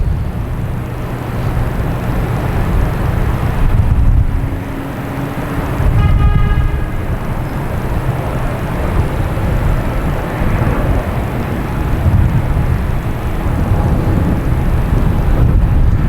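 A Delta airliner arriving at night at Boston Logan, a loud steady roar of jet engines mixed with heavy wind buffeting on the microphone, holding level throughout with no speech.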